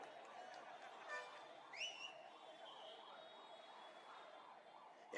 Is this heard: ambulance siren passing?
yes